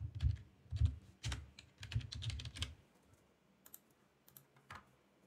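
Keys on a computer keyboard clatter in quick bursts for a few seconds, then give way to sparser, lighter taps, close and fairly quiet, with no voices.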